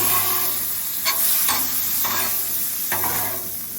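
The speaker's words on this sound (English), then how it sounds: "the bacon is starting to sizzle up good" Steady crackling sizzle of bacon frying in a pan, with a few scraping strokes of a utensil flipping it, fat running out of the bacon.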